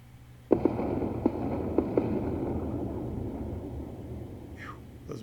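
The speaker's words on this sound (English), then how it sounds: "those missile volleys are pretty brutal" Missile volleys exploding in the space strategy video game Endless Space 2: a handful of sharp cracks at the start, then a steady rumbling roar that carries on to the end, with no voices.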